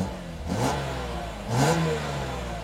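A like-new BMW M3 E36 is revved twice, and each blip rises and falls sharply over a steady idle. The engine sounds close and loud, with no talking.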